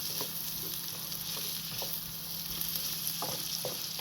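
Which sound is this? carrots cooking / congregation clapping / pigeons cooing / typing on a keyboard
carrots cooking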